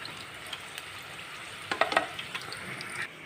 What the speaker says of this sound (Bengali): এগুলো তুলে নেব, নিয়ে সেম পদ্ধতিতে বাকিগুলোও ভেজে নেব